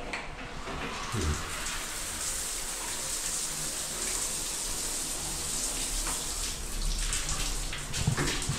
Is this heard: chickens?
no